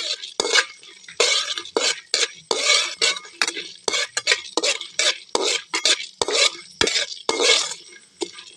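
Dal dry-roasting in a pan is stirred briskly, producing rapid repeated scraping and rattling bursts of lentils against metal, close and fairly loud with no speech.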